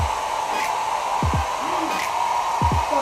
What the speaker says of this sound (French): Il va falloir qu'on fasse ça au sèche-cheveux.